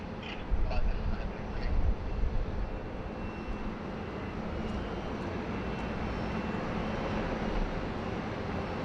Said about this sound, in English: It's a nice shallow departure there from the 789.